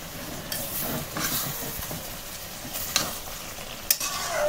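Vegetables are stirred and sautéed in a kadai with a soft, steady sizzle, broken by a few sharp scraping clicks of the spatula against the pan.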